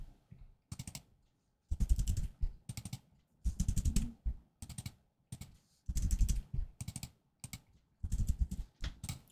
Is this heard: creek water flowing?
no